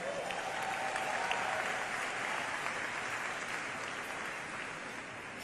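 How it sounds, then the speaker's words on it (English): Sustained applause from a large audience at an awards ceremony, steady and dense throughout, with a faint crowd murmur underneath. "Can we also please give a huge round of applause to our three remarkable awardees, Joe Tecca, Angela, and MVP Kamala Harris."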